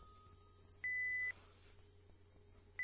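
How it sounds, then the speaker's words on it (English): A K-pop teaser holds two electronic beeps, a short sustained tone partway through and another starting near the end, sounding thin and clean over a quiet hum-laden background. "the camera is moving with every single beep"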